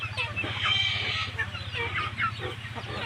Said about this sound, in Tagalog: may mga manok yan, no? naglilimlim